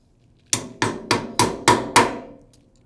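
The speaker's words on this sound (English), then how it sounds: "Hammer my weight so it sticks on." A hammer tapping a 1.25 ounce wheel weight onto a tire rim on a Snap-on balancer: six sharp, evenly spaced metallic strikes, close and loud, each ringing briefly before the next, with no talk.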